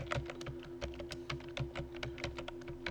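Steady, quick typing on a computer keyboard, a dense run of soft close-up key clicks over a faint constant electrical hum, with no voices.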